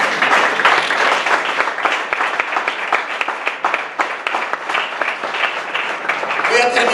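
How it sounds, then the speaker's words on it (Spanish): A church congregation claps for the Lord during a sermon, a dense, steady wash of many hands that stays loud for several seconds before a brief tonal sound near the end. "¿Cuántos dan palmas al Señor?"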